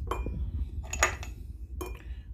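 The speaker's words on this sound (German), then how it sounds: "Und die Eiswürfel drauf." Ice cubes tumble into a bowl in a home kitchen, giving a few close, sharp clinks and rattles in quick bursts with short pauses between.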